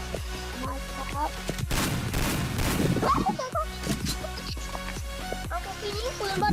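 Rapid gunfire from the mobile battle-royale game Free Fire, played on a POCO M3 phone, bursts of shots and impacts crackling repeatedly over game music, loud and close, with a brief smashing flurry midway.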